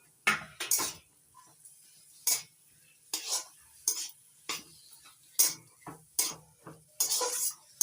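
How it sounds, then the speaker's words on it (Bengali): A potato filling with chopped coriander is stirred and fried in a pan: a spatula scrapes and clinks in steady, repeated strokes over a soft sizzle, close and clear, with no talking. "মিশিয়ে ভালো করে নাড়াচাড়া করে ভেজে নিচ্ছি ধনে পাতা কুচি দিয়ে নাড়াচাড়া করে নামিয়ে নেব"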